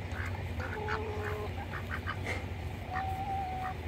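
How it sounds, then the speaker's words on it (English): A Saxony duck quacks in several short calls amid other backyard birds outdoors, with a faint whistling bird note and steady low background hum throughout. "And this is a Saxony duck."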